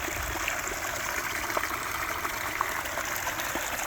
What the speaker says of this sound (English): Now enjoy the sounds that this little waterfall produces.